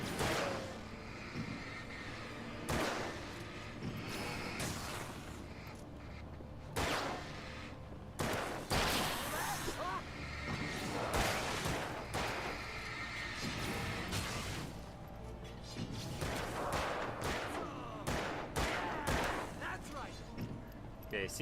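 Repeated revolver gunshots in the video game Alan Wake, sharp loud bangs spaced irregularly across the stretch amid game sounds, with a voice talking at times underneath.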